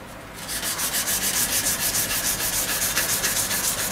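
A wooden snooker cue is rubbed with sandpaper in steady, close back-and-forth strokes, a continuous scratchy rasp with a regular rhythm and no talking.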